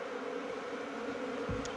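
Honeybees drone steadily inside an opened long Langstroth hive, a dense continuous buzz close up that holds level throughout with no talk over it.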